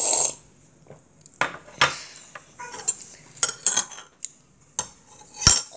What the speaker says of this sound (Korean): ASMR는 원래 소리 나게 먹는 거예요